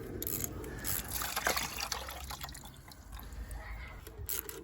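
Coolant draining from the bottom radiator hose of a Honda CBR600 F2 motorcycle, a steady close trickle and splatter of liquid lasting throughout, with faint background noise.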